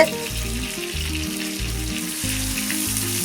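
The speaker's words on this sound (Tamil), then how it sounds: "7 நிமிஷம் ஆயிருக்கு. நல்லா வெந்து வருது." Chicken sukka pieces fry and sizzle steadily in a pan, a constant close hiss running under background music.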